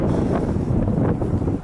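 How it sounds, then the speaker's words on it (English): Strong wind buffets an outdoor microphone on a gusty day at a mobile home sales lot in Sherman, Texas, with a loud, continuous low rumble that swells and dips throughout and no talking. "it's a real windy day out"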